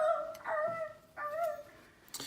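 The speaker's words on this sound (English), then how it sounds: "To the amazing sounds of our dog humping things." Dog making whimpering, whining vocal sounds in a home, two drawn-out high cries rising and falling close by, followed by a brief noisy rustle at the end.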